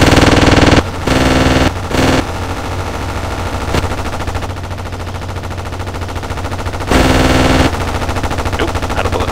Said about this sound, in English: one of his guns is shooting one direction and then the other guns are shooting the other direction